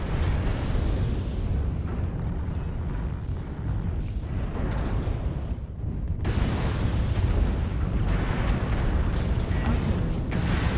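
Artillery strike explosions in the mech combat game MechWarrior Online, a dense run of heavy booms and rumbling blasts that carries on almost without a break, with one short lull midway before the barrage resumes.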